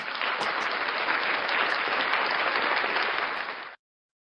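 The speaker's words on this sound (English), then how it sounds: "Clap for me." An audience breaks into steady, dense clapping that holds at an even, fairly loud level for several seconds. It then stops abruptly into silence.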